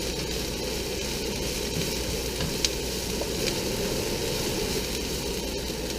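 Cabbage frying in a pan for Chinese fried rice, cooking down until wilted, a loud, steady sizzle that continues throughout with faint stirring scrapes.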